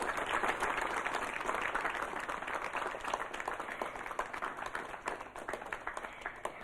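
An audience applauds students at a school and college Tamil speaking competition, dense clapping that gradually thins and softens toward the end.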